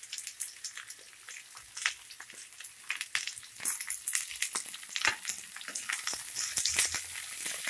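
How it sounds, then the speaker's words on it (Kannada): Sliced onions, green chillies and curry leaves fry in hot oil, giving a steady crackling sizzle of fine irregular pops, close and continuous, with no talk over it. "ಒಂದು 2 ನಿಮಿಷ ಫ್ರೈ ಮಾಡ್ಕೊಳ್ಳಿ ಎಣ್ಣೆಯಲ್ಲಿ ಈರುಳ್ಳಿನ"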